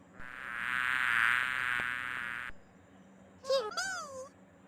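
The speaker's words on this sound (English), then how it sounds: "Bee." A bee's buzzing drone from an animal sound game, sustained and fairly loud for about two seconds before cutting off, followed by brief chirpy sounds.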